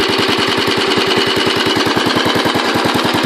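A Royal Enfield Bullet 500 Classic single-cylinder engine idles close by, its tappets ticking in a rapid, steady metallic rhythm over the low, regular thump of the exhaust pulses, with no talk.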